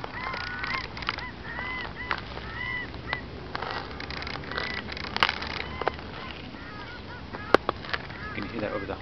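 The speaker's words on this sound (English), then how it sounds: "You can hear that over the honking of the geese." Geese honk repeatedly outdoors at a moderate distance, overlapping calls in an irregular flock chorus over a low background, with a couple of sharp clicks.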